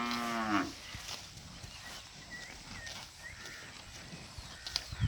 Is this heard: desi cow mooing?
yes